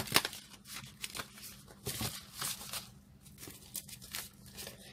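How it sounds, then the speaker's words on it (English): A deck of tarot cards being shuffled by hand, with short, irregular bursts of papery riffling and slapping close to the listener. "my right hand hurts while I'm shuffling."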